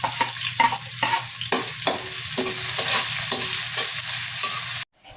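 Garlic and onion sizzling in hot oil in a pan, with repeated scraping stirs of a utensil over a continuous frying hiss, ending abruptly.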